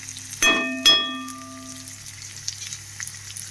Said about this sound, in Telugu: సో ఆనియన్స్ అంతా ఆయిల్లో కలిసే విధంగా మనం ఇలాగా